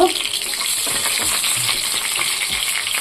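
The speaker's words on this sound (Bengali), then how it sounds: "আর এই যে লো ফ্লেমের মধ্যে আমি এটা ভেজে নিচ্ছি" Something frying steadily over a low flame while dhokla is being made, a continuous close sizzle with light stirring noises and no talk.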